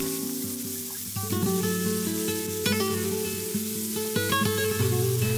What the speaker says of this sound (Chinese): 油烧热后呢，放入虾仁儿，撒上足够的盐和黑胡椒。